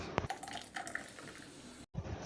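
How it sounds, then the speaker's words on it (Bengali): Raw mango water poured through a large sieve while making jelly: a faint trickle and splash of liquid with light clinks, broken by a brief silent gap near the end. "চলো আমটাকে এতে ছেঁকে নিই খুব ভালো করে"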